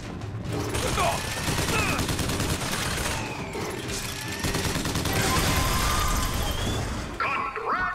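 Heavy gunfire from a weapon in the first-person shooter BioShock Infinite, sustained and loud, mixed with crashing impacts and shattering debris, while a voice talks over it.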